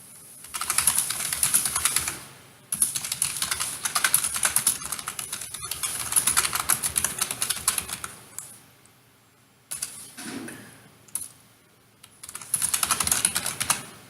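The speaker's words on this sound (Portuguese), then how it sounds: "Vamos escrever um texto aleatório para" A computer keyboard is typed on in quick, close bursts of clicking keystrokes separated by brief pauses.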